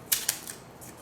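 Packaging around the charger for an Apple iPad mini 6 being unwrapped: a few quick, crisp crinkling snaps, two sharp ones close together and then softer rustles, close and quiet.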